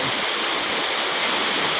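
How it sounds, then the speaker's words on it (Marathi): A flooded Konkan river forces water through under pressure, making a loud, close, unbroken roar and rush that stays steady from start to end. "ज्या ठिकाणी पाणी कमी होता त्या ठिकाणी आता प्रेशरने पाणी जात आहे बघा"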